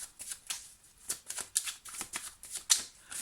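Tarot cards shuffled and drawn by hand, a run of close, crisp riffling and soft slapping bursts in an irregular rhythm, with no talking.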